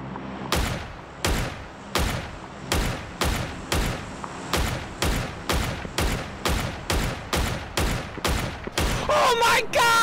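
In PUBG, a weapon fires loud, single shots in a steady rhythm, roughly two per second, about eighteen in all, ending in a quicker cluster of shots with a brief vocal sound.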